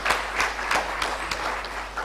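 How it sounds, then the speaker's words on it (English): Audience applause at a plenary session of an international conference on sustainability education, during a book release. It comes as a loose series of distinct claps at a moderate level over a steady background hum. "Let's have a round of applause for Dr."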